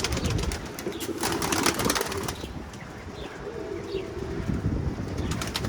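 Pigeons flying in strong storm winds, brief wing flaps and faint bird sounds scattered over a constant gusting wind rush.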